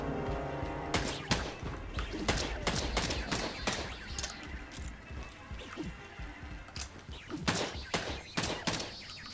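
Rapid bursts of gunfire from a western horror shooter game, sharp shots fired in quick clusters across the whole stretch, loud and close over a busy game backdrop.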